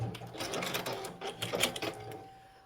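A serger stitching quilted fabric for a Christmas stocking, heard as a close, rapid mechanical whirring in several short uneven bursts with brief gaps between them, and no talking.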